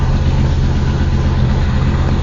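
A Chevrolet Nova SS with chambered exhaust pipes idles in a steady, deep, rumbling drone, close and loud, with no talk.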